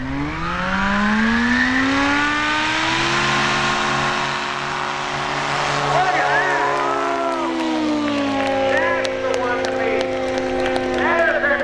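A STOL competition light aircraft engine revs hard at 10,000 RPM and holds a high, buzzing whine, shifting pitch slightly as it runs; a voice talks over it.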